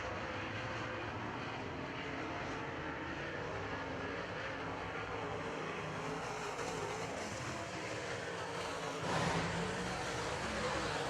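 Late model race cars at a feature race run around a track with a continuous, fairly distant engine roar that drones on steadily, swelling slightly near the end, with no talk.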